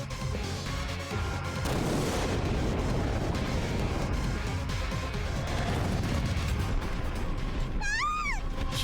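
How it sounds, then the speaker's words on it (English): An explosion in the Chaos;Child video game: a dense, sustained rumbling roar filling about nine seconds at moderate level, with a brief warbling tone rising near the end. "There was an explosion, and a shockwave in the air struck me in the face."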